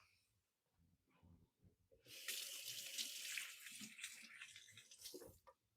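Hands are rinsed under a running kitchen tap: a soft start, then a steady close rush of water that flows for about three seconds before cutting off.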